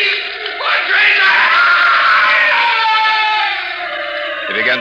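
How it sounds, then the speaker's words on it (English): In a 1954 radio drama adaptation of Poe's tale, a man screams in prolonged, wavering anguished cries that rise sharply and hold for several seconds before breaking off. "He began to scream."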